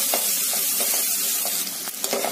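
Onions frying in a pan with asafoetida until light brown, a loud, continuous close-up sizzle with a few light stirring scrapes toward the end.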